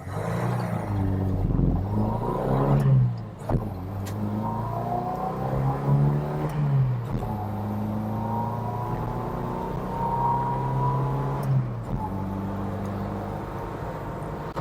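A 1960s Mk1 Ford Escort Estate engine revs hard and accelerates up through four gears, pitch climbing then dropping at each shift, loud and close throughout.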